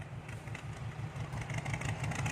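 An excavator pushing the rear of a tractor stuck deep in mud gives a faint, low engine chug with a rhythmic throb and light clatter, continuous and fairly distant.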